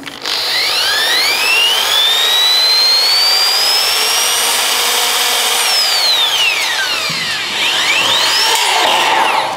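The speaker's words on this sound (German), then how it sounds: "Und so geht das dann mit dem Winkelschrauber, ist auch eine tolle Sache." An angle screwdriver drives screws into a drywall ceiling frame, its loud, close motor whine rising and falling in pitch as it speeds up and slows through several screws, with no talking.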